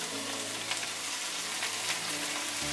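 Kolai greens go into a pan of frying onion and garlic, and a dense, even sizzle fills the scene close by, with a few brief crackling bursts over the steady hiss.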